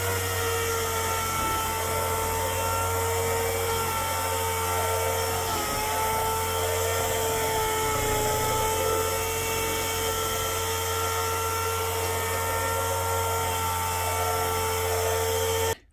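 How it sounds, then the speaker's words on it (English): A DA sander glides lightly over a Corvette LS6 cylinder head, making a steady high-pitched whine with a low hum beneath it that runs without a break for the full stretch and cuts off abruptly at the end. "Just basically just the weight of the DA. Just letting it glide along."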